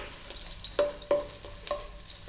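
Ginger sautés in hot oil in a pan, a low steady sizzle punctuated by three sharp metallic ladle taps that ring briefly; no one talks.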